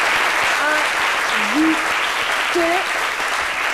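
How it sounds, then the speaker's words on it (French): A television studio audience claps loudly and steadily for a guest, with a host's voice talking over the applause. "On applaudit très fort notre"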